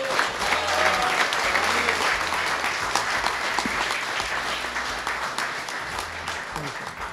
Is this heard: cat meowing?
no